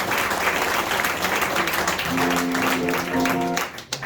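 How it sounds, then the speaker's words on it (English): A live crowd at a music performance venue in Greystones, Ireland claps for the venue, dense steady applause that runs nearly the full length under a faint sustained musical tone, then thins out near the end. "particularly clap for the venue as well"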